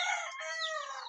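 A chicken in a coop full of hens gives a single drawn-out, loud call lasting about a second, heard up close with nothing else around it.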